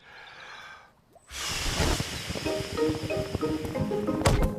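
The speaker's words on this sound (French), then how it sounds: "Je vais souffler très fort sur la voile et il va avancer." A soft hiss of breath, then a long, hard blowing rush of air close by on a toy boat's sail, with light rattles and a faint bump near the end, in a Peppa Pig cartoon.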